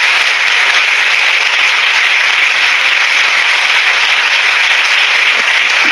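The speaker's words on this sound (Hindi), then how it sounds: "ऊपर ताली बजाएंगे यीशु की महिमा के लिए" A congregation at a Christian worship service claps together in dense, loud, sustained applause that fills all six seconds evenly.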